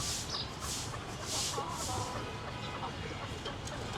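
A hen or rooster clucks in short bursts outdoors, standing on a raised perch, with soft repeated calls over a steady rustling background and no one speaking.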